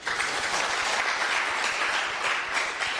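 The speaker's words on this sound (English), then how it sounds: "Please, a good round of applause." Steady audience applause in a hall during an induction course at Court of Appeal headquarters, full and continuous with no voices over it.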